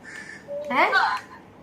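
A human voice imitates a crow's caw during a children's Sunday school lesson, giving a single drawn-out, rising and falling call, loud and close.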